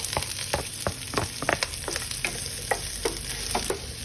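Garlic sautés in a hot pan with a steady bright sizzle, broken by frequent scraping and knocking as it is stirred, close and continuous with no voices.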